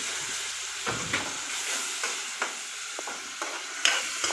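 Ginger garlic paste and tomato fry in oil for a chicken curry gravy, a steady close sizzle with repeated scraping and stirring strokes against the pan throughout, no talking.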